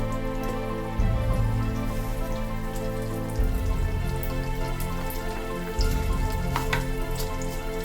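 Chilli and mustard seeds hit hot oil for tempering a curd rice dish, giving a steady crackling sizzle with sharp pops, surging in loud bursts as ingredients go in, under a constant background hum.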